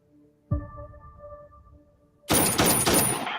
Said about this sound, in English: I'm hearing all kinds of gunshots down the street from my house.